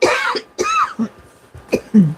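Several harsh coughs and throat-clearing sounds in quick bursts, close and loud, with short pauses between them.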